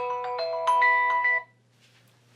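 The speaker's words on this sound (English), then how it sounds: "my phone going off here" A phone ringtone plays a clear, bright repeating electronic melody of several rapid tones for about a second and a half, then cuts off, leaving quiet room background.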